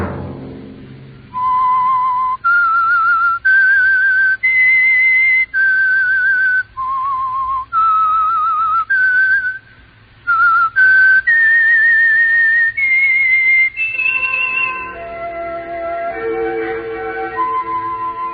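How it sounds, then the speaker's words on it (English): A single clear whistler performs the signature tune of The Whistler radio program, a series of sustained, sliding notes with brief pauses between phrases, loud and close, ending in a descending run. "Let that whistle be your signal for the Signal Oil program, The Whistler"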